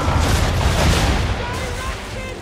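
Ship cannons firing a broadside in Assassin's Creed III, heard as a continuous, loud rumbling roar of overlapping blasts with no clear gaps, dense and booming throughout.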